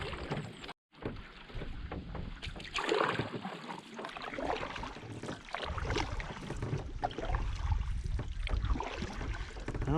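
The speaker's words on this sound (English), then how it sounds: "Let's just keep paddling." Canoe paddling across a lake in the Boundary Waters wilderness, with steady water splashes and strokes continuing throughout, close and moderately loud, with wind and boat noise in the background.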